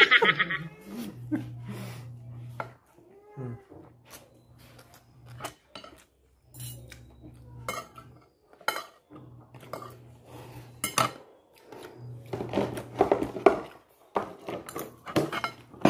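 Cutlery scrapes and clinks against dishes in irregular bursts during a beef teriyaki breakfast, close and fairly quiet, with brief pauses between clatters.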